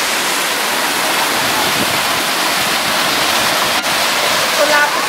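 The Cachoeira do Curiango waterfall in Itacambira roars as a constant broadband rush of falling water, loud and close, with no pause.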